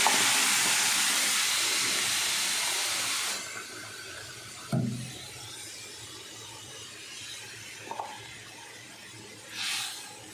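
Water poured into a hot pan while cooking paneer, a loud bright sizzle and hiss that fades after a few seconds, followed by quieter simmering with a couple of clinks and a short renewed hiss.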